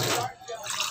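Water pours into a cooking pot for chicken adobo with boiled eggs and tofu, a short splashing gush heard close up, with a voice speaking over it.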